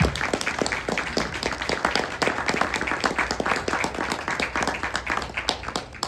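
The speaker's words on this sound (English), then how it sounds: "Let's give Val a round of applause." Audience applause for the speaker Val at an entrepreneur event, a dense, steady patter of many hands clapping at once that holds for several seconds at an even level.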